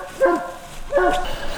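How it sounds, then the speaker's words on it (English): Hunting dogs bark at an animal treed in the woods near a house, giving two distinct baying barks that echo at moderate distance over a quiet outdoor background. "The dogs are, or Ann is treed right in here behind somebody's house"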